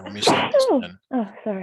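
A single sneeze during a high school statistics lesson, sharp and close, followed by people talking.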